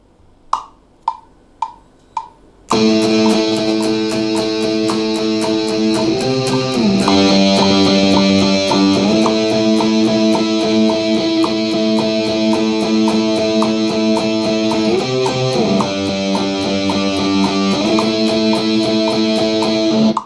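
A few muted picked notes lead into a loud, heavily distorted electric guitar playing sustained chords with a steady strummed rhythm, gritty and saturated throughout.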